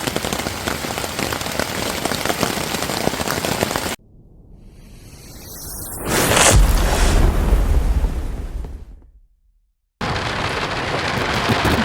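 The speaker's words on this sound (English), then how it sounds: "Yeah, so it started to rain and I just pulled over at the rest stop." Rain drumming steadily during a night of camping, broken midway by a heavy rumbling thunder roll that swells loud and fades, before the dense rainfall returns.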